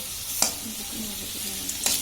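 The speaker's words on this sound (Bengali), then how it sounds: "ওই তেলের মধ্যে দুটো আলু কেটে আমি ভেজে নিচ্ছি লাল লাল করে।" Cut potatoes fry in oil until reddish, a soft, steady sizzle close by, broken by two sharp scraping stirs of a utensil against the pan. No voices.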